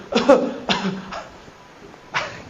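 Three or four short, harsh coughs close by, spaced out over a couple of seconds with quiet gaps between them.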